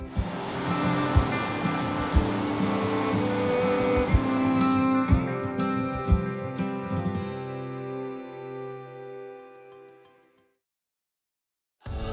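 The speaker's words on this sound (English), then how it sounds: "It's like the road washed away from this dramatic river that you can hear behind me." Dramatic rushing river beside the Dalton Highway in Alaska, where the road has washed away: a loud, continuous roar of water with thumps of wind on the microphone. The roar cuts out abruptly near the end.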